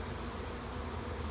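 Continuous dense buzzing of a bee swarm gathered on a tree and moving into a hole, a steady even hum with no talk.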